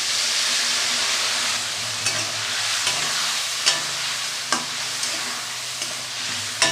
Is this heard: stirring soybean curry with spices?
yes